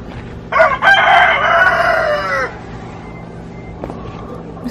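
A rooster crows loudly and close by inside a homemade backyard chicken coop, one long call followed by a quieter cluck, with no talking.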